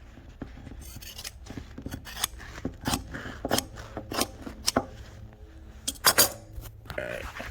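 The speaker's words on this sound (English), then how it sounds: "I'm gonna try to cut it straight and see." Scissors snip through a foam upholstery panel in close, repeated crisp cuts with squeaky blade sounds, coming in irregular bursts of varying loudness.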